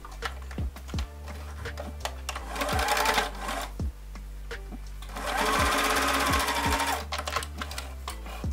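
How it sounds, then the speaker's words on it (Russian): A sewing machine stitches a seam on small folded fabric pieces for a bottle bag, running in two steady bursts with a brief pause between, close and clear with no talk. "складываем как предыдущую деталь. и тоже прокладываем строчку."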